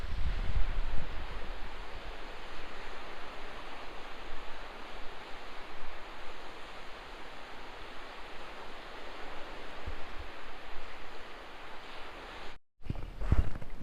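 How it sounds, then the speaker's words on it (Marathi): Soft, continuous wash of sea waves with gentle swells rising and falling, a faint gust now and then, and no voices. "समुद्राच्या लाटांचा आवाज मन एकदम शांत होऊन जातं एकदा नक्की आवाज ऐका"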